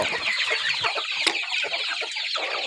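Chickens clucking steadily at an evening feeding, a dense flock of overlapping clucks and chatter close by with one sharper squawk midway, no voices.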